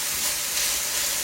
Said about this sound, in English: I'm going to saute this onion in there a little bit